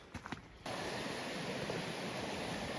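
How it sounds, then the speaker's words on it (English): A raging river on the Appalachian Trail gives a steady, broad roaring rush that sets in abruptly after a brief quieter moment and holds constant at moderate level, with no talking. "we got another raging river to cross here. They sound so loud from a distance. I mean, it's just roaring."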